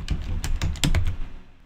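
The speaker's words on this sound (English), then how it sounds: "you can just start typing on the desktop" Fingers type on a computer keyboard at a desktop, giving a run of close, crisp key clicks in an uneven rhythm, with a few louder strikes and no voices.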